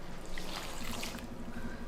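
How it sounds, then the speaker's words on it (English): Warm water is poured into flour, salt and oil in a mixing bowl, a soft, continuous trickling splash lasting a couple of seconds, faint and close, with no talking. "and then add the warm water"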